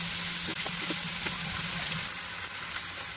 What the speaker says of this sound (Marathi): आणि आता आपण कांदा टाकला. कांदा आपण परतून घेऊया. गॅस मोठा करून